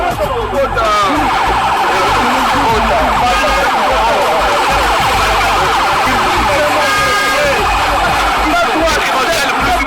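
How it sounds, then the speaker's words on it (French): A police vehicle siren wails loudly and continuously at a protest in Lubumbashi where tear gas is used, its rising and falling tone close by, with people shouting and talking over it throughout. "il y a le véhicule de la police"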